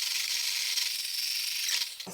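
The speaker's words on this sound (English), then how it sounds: "Then all we have to do is whisk it for about 2 to 4 minutes." Instant coffee, sugar and hot water being whisked give a continuous, fast, bright scraping whir that holds steady at close range.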